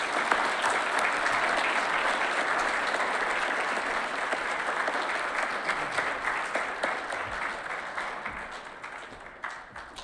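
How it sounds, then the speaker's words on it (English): A hall audience at a Boy Scout Troop 226 Eagle Court of Honor applauds its six newest Eagle Scouts: sustained, dense crowd clapping that holds steady for ten seconds and slowly thins toward the end. "if we can give a nice round of applause to the 6 newest Eagle Scouts of Troop 226"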